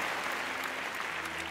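Brief burst of audience applause at a live magic show, steady dense clapping from a crowd, moderately loud and continuous for a moment.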